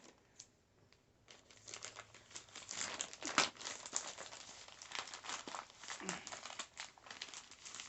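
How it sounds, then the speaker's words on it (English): Scissors snipping open mail packaging close up, with quick faint crinkling, rustling and cutting sounds scattered throughout at low volume. "But now we're going to snip, snip, and be very careful, hopefully not to cut anything."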